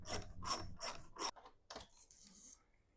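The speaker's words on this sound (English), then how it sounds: "Then you take a 3/8 inch socket and remove the 4 long bolts." A ratchet driving a 3/8 inch socket clicks in several quick bursts while long bolts are removed from a Dometic RV air conditioner, close and fairly quiet, followed by a softer scraping.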